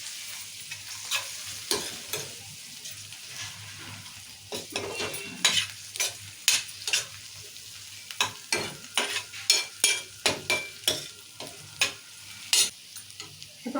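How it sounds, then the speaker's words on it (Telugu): Ginger garlic paste and turmeric stirred while frying in a pan for a tomato and drumstick curry: steady sizzling with repeated scraping spoon strokes against the pan, close and rhythmic, with no voices. "ఇప్పుడు అల్లం వెల్లిగడ్డ పేస్ట్ కూడా వేసుకుందాం"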